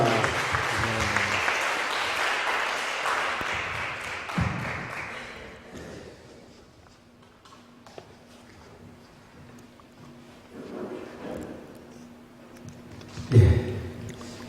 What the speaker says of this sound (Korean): 다시 한번 함께 영광 박수 올려드리겠습니다